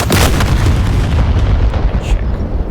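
In the DCS AH-64D Apache combat flight game, a missile hits its target with one loud, close explosion whose heavy boom sustains and rumbles as it slowly fades over the following seconds.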